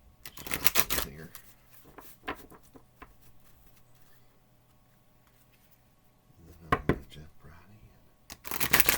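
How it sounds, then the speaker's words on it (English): A deck of oracle cards is shuffled in a few crisp, riffling bursts, close and clear, with quiet pauses between them and a voice talking over parts. "Alright, I'm going to give this a shuffle."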